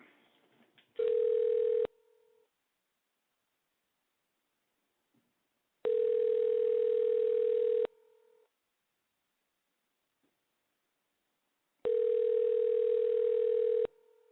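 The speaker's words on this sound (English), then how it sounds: "And it's dialing." Telephone tone sounding in three separate steady bursts, each about one to two seconds long, separated by silence, as a call is being dialed; clear and close.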